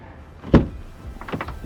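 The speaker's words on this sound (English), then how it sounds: "Certainly sounds like a hinge is bent, or maybe this is a little bent" Opening a car door with a bent hinge on a totaled car being rebuilt gives a sharp metallic clunk, then a short run of creaky, grinding scrapes as the door shifts; close and fairly loud, with no speech.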